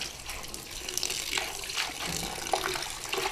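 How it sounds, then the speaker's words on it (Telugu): Amaranth leaves being rinsed under running tap water for a sour greens dish, a steady close splash with small surges as the leaves are moved through the stream. "దాన్ని ఆకు శుభ్రం చేసుకుంటున్నానండి. 2-3 సార్లు చేసేసిన. ఇంకొకసారి"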